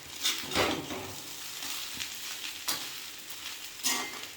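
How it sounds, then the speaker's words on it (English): Handful of cooked rice added to small onions, leaves and egg frying in a pan, a steady close sizzle with soft stirring scrapes rising and falling throughout. "After that I am just putting this rice, 1 handful of rice."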